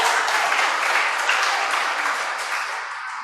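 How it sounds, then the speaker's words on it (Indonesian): A church congregation breaks into steady, dense applause, a loud wash of many hands clapping together that carries evenly and fades slightly toward the end. "Tepuk tangan, haleluya."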